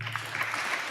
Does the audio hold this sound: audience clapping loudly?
yes